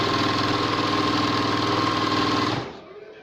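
An Okurma 620-F overlock sewing machine runs at a steady fast buzz, loud and close, then stops abruptly near the end of the clip.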